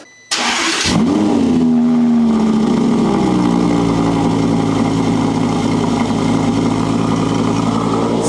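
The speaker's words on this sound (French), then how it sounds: "ce que je te propose, c'est qu'on entende ce joli V10" A supercar's V10 engine fires up with a brief starter burst, then settles into a loud, steady, throaty idle that stays close and continuous with no talking.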